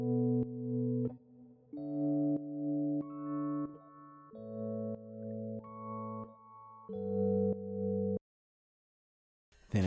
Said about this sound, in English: The first one is going to be an electric piano